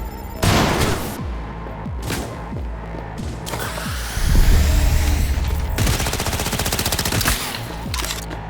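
Rapid automatic gunfire from soldiers in a Cyberpunk 2077 firefight, sustained bursts and fusillades with heavy low booms, loud and continuous throughout.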